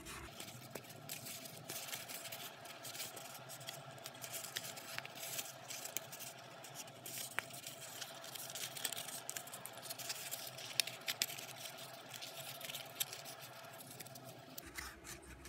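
Paper folded and creased into a Miura-ori map fold makes steady, faint rustling and rubbing, with scattered small ticks and creasing scrapes over a quiet background.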